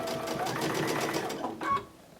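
Close, rapid stitching of a sewing machine joining bow tie quilt pieces, a short steady burst of needle clatter that slows and stops after about two seconds.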